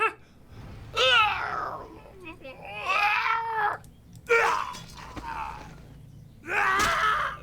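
Warcraft III Demon Hunter hero death screams, a series of loud, strained vocal cries and groans in several bursts separated by short pauses, with no other talk.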